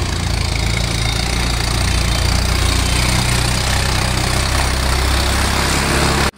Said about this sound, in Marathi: ऊस वाहतूक चालल्यामुळे ऊसाचे ट्रॅली ट्रॅक्टर भरपूर आहेत या रोडवरती